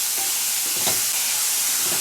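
Onions frying in oil in a home kitchen pan while masala akki rotti is being prepared, a steady close hiss of sizzling with occasional soft stirring scrapes and no talking.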